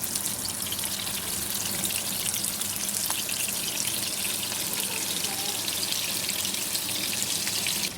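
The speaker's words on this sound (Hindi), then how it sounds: "लो टू मीडियम फ्लेम पे हम इसे फ्राई करेंगे क्योंकि कीमा कच्चा है इसका।" Raw minced-meat gola kababs shallow frying in oil over a low to medium flame, giving a steady, dense sizzle and hiss that runs unbroken from start to finish with no voices.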